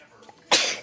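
A person with a cat allergy lets out a single close, loud sneeze after a brief quiet intake of breath.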